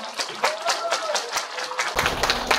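Audience claps to welcome a singer onto the stage at a Korean unification cultural festival, scattered claps growing into fuller applause, with voices talking through it.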